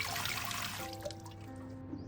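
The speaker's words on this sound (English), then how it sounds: "rinse gently under cold running water to remove dirt, soil, and pesticide residue" Cold water runs from a tap over fresh beans in a colander, a steady close trickle and splash that thins toward the end, with a faint hum underneath.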